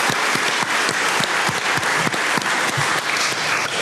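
A debate audience at a US congressional race applauds and cheers together, dense, sustained clapping throughout with sharp individual claps standing out and no talking.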